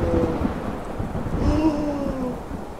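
Lightning and thunder in an animated scene, a loud low rolling rumble with rain-like noise beneath and faint tonal tones drifting over it, sustained and close for the whole stretch.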